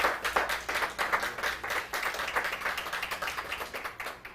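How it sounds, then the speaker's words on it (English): An audience claps steadily at a corporate sustainability report launch, dense overlapping applause sustained throughout at a moderate, even level with no talk. "Now that we have signed the commitment, I would also like us to clap."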